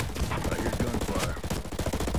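Rapid bursts of gunfire from a tactical shooter video game fill the whole stretch, dense and fairly loud, with layered shots and game effects crowding together.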